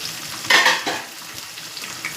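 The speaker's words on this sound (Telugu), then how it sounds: "కొంచెం కరివేపాకు, ఇలా ఫ్రై చేసి" Green chillies and curry leaves fry in a pan for Telugu-style coconut chutney, giving a short burst of hissing sizzle that fades into a softer, steady crackle heard alone.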